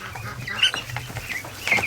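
Ducks at a swamp give loud close quacks and clucking calls in quick, overlapping bursts, with no talk over them.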